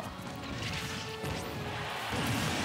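Metal Blade throws and forward-air hits land in a Super Smash Bros. Ultimate match as Mega Man fights, a run of sharp smacking impacts over constant game noise and crowd-like background bustle.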